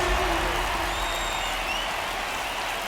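A ballpark crowd in the video game MLB 24 The Show, at an Angels vs. Yankees game in the ninth inning, makes a steady roar and applause with no talking on top.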